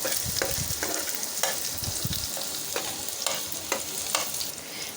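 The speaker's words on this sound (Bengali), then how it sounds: "পেঁয়াজটাকে একটু ভেজে নেব।" Onions fry in a pan that has just held eggs, giving a continuous sizzle broken by regular scraping strokes as they are stirred, close and fairly loud with no talk.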